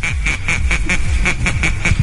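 Novelty music playing on a radio show, with synthetic duck quacks repeating in a steady bouncing rhythm over a thumping beat, loud and continuous.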